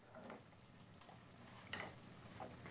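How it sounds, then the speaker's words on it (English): A spoon stirs two ingredients melting together in a pan over low heat, giving a soft, steady scraping and faint sizzle with occasional louder strokes, close and quiet, no voices. "Just keep stirring it."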